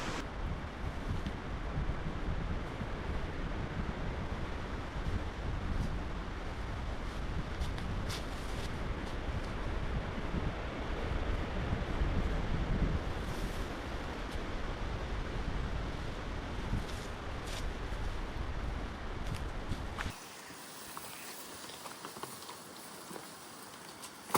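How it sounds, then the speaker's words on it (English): Strong wind gusts across a remote wilderness lake in a canoe-country camp, roaring continuously into the microphone with a surf-like wash of waves, then dropping off sharply to a quieter hush near the end. "it's really windy out there."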